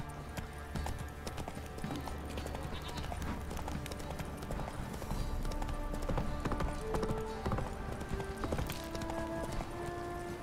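Roach the horse gallops in a video game, steady clip-clopping hooves running through the whole stretch amid music and ambient game sound, with a rider's voice urging the horse on.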